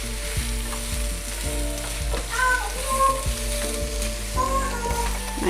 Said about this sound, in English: So here are the peppers and the onions cooking.